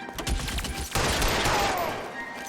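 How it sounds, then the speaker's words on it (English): Rapid gunfire from a cop shooting in the video game LA Noire Remastered, a dense burst of shots filling the whole stretch at close range. "Cop shooting right behind me."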